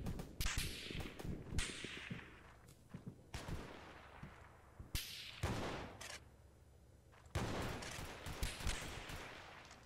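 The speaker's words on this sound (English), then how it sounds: "Damn, this shotgun doesn't shoot as fast as the last update." A shotgun firing in the Roblox shooter Oof Brigade, loud close blasts spaced a second or two apart with brief quieter gaps between them, alone without talk.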